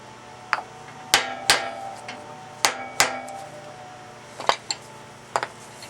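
Irregular taps of a small toy hammer on a wood block against a lathe headstock handwheel, some single and some in quick pairs, crisp and close with brief pauses between.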